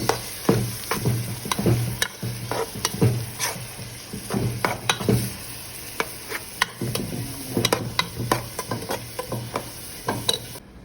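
Onions and tomatoes sauté in a pan for chicken masala, a soft steady sizzle broken by frequent sharp scrapes and clacks of a utensil stirring, close and alone with no talking.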